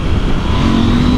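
A 2021 KTM 890 Adventure's parallel twin engine accelerates hard in a loud, steady, close roar with a rising tone across a brief moment.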